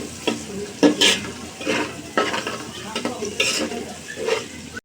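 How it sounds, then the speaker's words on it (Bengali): Chillies, boiled rohu fish and other ingredients frying in oil while being stirred, with a continuous sizzle broken by repeated scraping strokes of the spatula, close and fairly loud. "তো সবগুলো উপকরণ একসাথে আমি খুব ভালোভাবে ভেজে দেব তেলের সাথে।"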